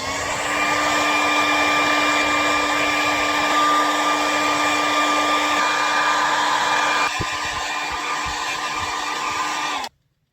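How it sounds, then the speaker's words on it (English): A hair dryer blowing heat onto stitched fabric to erase Frixion pen marks, a loud steady whirring hum that drops slightly partway through and then cuts off abruptly near the end. "you can remove it with heat in the form of a hairdryer"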